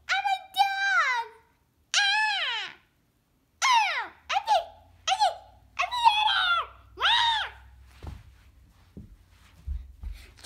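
A voice imitates a dog, giving a run of short, strained barks and yelps with growly edges in separate bursts, close and fairly loud over a faint low hum.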